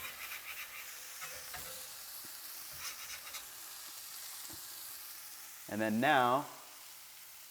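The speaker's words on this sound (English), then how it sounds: "we're gonna fry all those onions in" Shallots hit a hot griddle beside smashed burgers with a sudden loud sizzle and crackle for about a second, after quiet stirring and scraping and a brief spoken phrase at the start.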